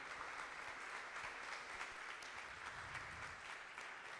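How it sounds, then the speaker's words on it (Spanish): An audience at a symposium applauds, a continuous, even patter of many hands clapping, moderately distant and fairly quiet, with no speech on top. "Un fuerte aplauso"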